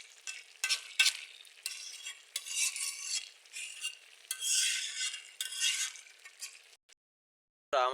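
Fish fritters sizzle and crackle in hot oil in a pan while a utensil stirs and flips them, with clinks and scraping throughout, then a short silence before a brief tonal sound at the end.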